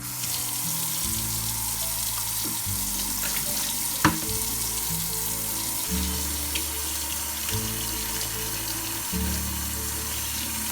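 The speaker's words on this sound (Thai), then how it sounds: "แช่4 ชั่วโมงแล้วเราก็จะมาล้างน้ำให้สะอาดเนาะ" Soaked beans being rinsed in a bowl under a running kitchen tap, with steady water splashing throughout and low rhythmic rumbles and a brief clink as the beans are stirred.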